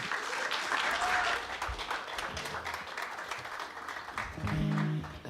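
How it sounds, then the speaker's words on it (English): Audience applause for an opening act at a live show, a dense sustained wash of many hands clapping throughout, with some crowd voices and low rumbling music-like tones rising near the end. "I need a stadium-sized round of applause for our opening act tonight"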